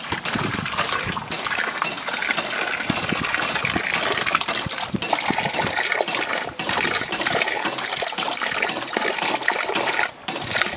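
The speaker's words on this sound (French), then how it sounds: "pour voir un bélier siphoïde fonctionner" A homemade siphon hydraulic ram pump pushes water with a continuous loud gushing and splashing rush, plus brief metallic clinks, holding steady for the whole stretch.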